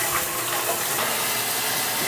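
Tap water runs steadily into a draining sink in a house, a close, continuous hiss and splash that stays even for the whole stretch, with no voices.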